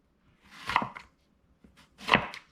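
A knife slices through chayote on a cutting board for an egg stir fry, two distinct close crunchy cuts separated by a pause, no talking.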